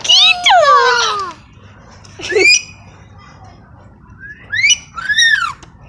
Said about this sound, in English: Just a wolf whistle.